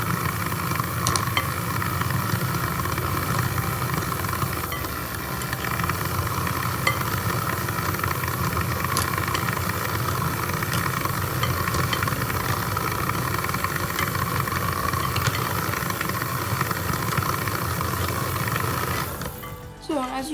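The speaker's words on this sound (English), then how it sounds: "I'm going to beat it on low until the egg is fully incorporated" An electric mixer on low beats an egg into caramel cake batter with a steady, even whirring drone that holds for about twenty seconds before cutting off abruptly.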